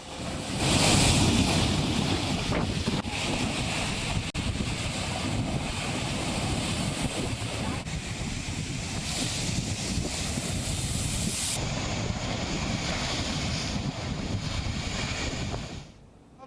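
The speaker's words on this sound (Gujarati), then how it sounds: "વરસાદી માહોલ વચ્ચે દરિયામાં ભારે કરંટ જોવા મળી રહ્યો છે" Rough Arabian Sea waves surge and crash at Gomti Ghat in Dwarka during heavy rain, a loud, continuous roar of surf mixed with gusting wind buffeting the microphone.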